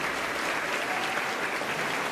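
A crowd at a junior college gathering in Buldana gives a dense, loud, continuous round of applause for the college staff, steady throughout the short stretch.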